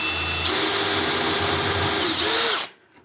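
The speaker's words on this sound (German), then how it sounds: "dass ich genau zentriert in der Mitte von dem Brett hier bohre" A cordless power drill bores a dowel hole into the centre of a wooden board, whining up to a steady high-pitched run, dipping briefly, revving again, then cutting off and leaving near silence.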